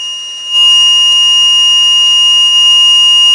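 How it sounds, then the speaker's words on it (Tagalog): A door-sensor-triggered alarm buzzer sounds a loud, piercing electronic tone that starts abruptly and holds steady, shrill and continuous, with no voices. "Ngayon, patayin natin muna si buzzer"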